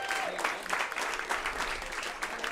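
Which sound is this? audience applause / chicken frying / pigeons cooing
audience applause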